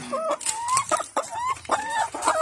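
Laying hens clucking up close at feeding time, a quick run of short rising clucks and squawks with brief pauses between them.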